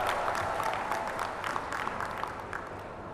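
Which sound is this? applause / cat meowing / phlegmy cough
applause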